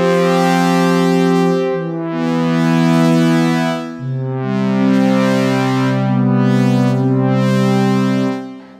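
Sampled synthesizer patch from IK Multimedia Syntronik modeled on an Alesis Andromeda, sustained harmonically rich chords changing every couple of seconds, loud and steady with bright swelling overtones, no voices.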